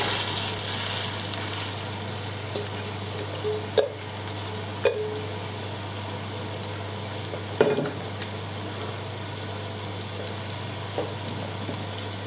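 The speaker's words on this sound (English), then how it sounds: "So I need to fry the onions" Onions fry in butter in a pan, a continuous close sizzle with a few sharp knocks of a utensil against the pan, over a steady low hum.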